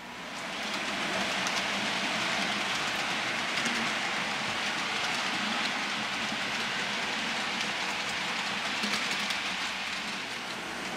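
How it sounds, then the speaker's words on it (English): A steady, broad rumbling hiss of an HO-scale model train running continuously on a layout, with faint rhythmic clicking of wheels, no voices. "As the train passes Pine"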